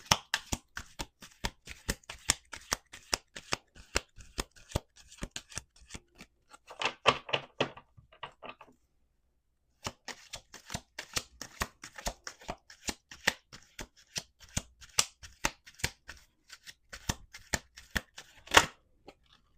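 Playing cards are shuffled in rapid crisp bursts of riffling and snapping, with brief pauses between rounds, heard up close.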